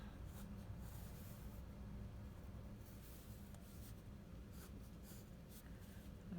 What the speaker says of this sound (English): I'm going to sketch a little scene here with a sailboat